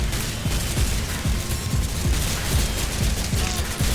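Rapid GTA video game gunfire rattles continuously in dense bursts, loud and close, with low thumps repeating under a noisy wash.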